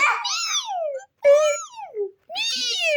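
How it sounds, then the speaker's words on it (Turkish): A kitten meows three times, high and wavering, each cry rising then falling, with brief silences between them, close and clear. "bir yavru kedi sesi bu."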